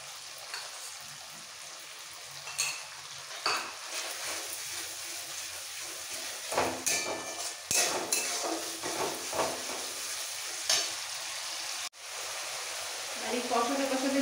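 Spice paste sautéing in a pan for a home-style vetki fish curry with cauliflower and potato, steady sizzling broken by repeated scraping stirs and clinks of a spoon against the pan.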